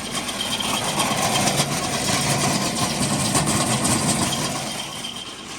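A Vasundhra grain loader runs with its gearbox turning, giving a steady mechanical engine drone at moderate loudness that eases slightly toward the end.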